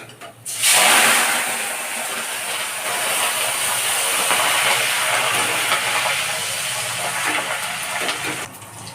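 Curry leaves dropped into hot oil burst into a loud, steady sizzle that jumps in suddenly and hisses on evenly at close range, for a Diwali atukula mixture.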